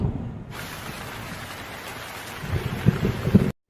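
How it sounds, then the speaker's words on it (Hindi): A heavy-rain sound effect in a Hindi village horror story: a steady hiss of pouring rain, with low rumbling thunder building toward the end before the sound cuts off abruptly. "एक रात बहुत तेजी से बारिश हो रही थी।"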